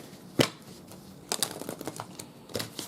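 A few quick riffling bursts of cards being shuffled, crisp and close, with brief pauses between the flurries.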